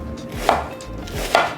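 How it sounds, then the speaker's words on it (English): Two firm knife chops through iceberg lettuce on a cutting board, close and crisp, evenly spaced about a second apart, with no voices. "cut up some iceberg lettuce"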